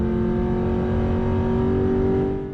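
A 3V Ford Mustang engine pulls hard under acceleration, its tone rising steadily before easing off near the end as it shifts, loud and close with no voices.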